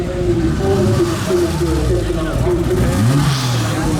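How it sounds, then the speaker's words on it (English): A turbocharged Ford F6 sedan at a street car show idles and revs, its engine note rising and falling in loud, close pulls with a final upward sweep. "I've got this F6 starting up. Little turbo in there, eh?"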